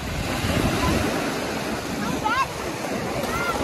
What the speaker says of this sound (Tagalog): Ayan, lakas ng alon dito.